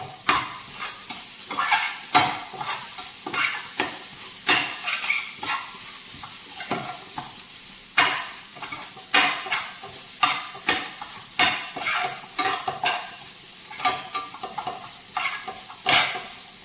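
Onion, garlic and urad dal roast in a pan for Kerala sambar, with a rhythmic run of loud scraping stir strokes over a light sizzle, close and alone.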